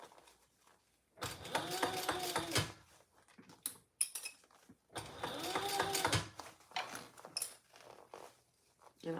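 A sewing machine stitches fabric in two rapid, rattling bursts of a couple of seconds each, separated by quiet pauses and small handling clicks, heard up close.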